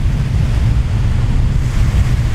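Ocean waves washing onto a shore, a continuous loud low rumble of surf mixed with wind buffeting the microphone, with no voices.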